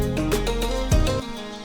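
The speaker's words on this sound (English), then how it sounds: "I took down the Acoustic Cascades guitar." A guitar-style synth preset, Acoustic Cascades in Alchemy, plays a melody with bright plucked tones over a low sustained bed. The notes cut out suddenly near the end.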